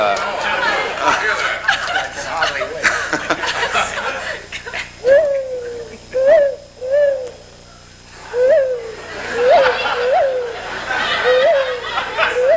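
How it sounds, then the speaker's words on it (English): Repeated hooting calls of a great horned owl, some rising and falling in pitch, spaced a second or two apart, with people's chatter and background noise earlier on. "this is the great horned owl"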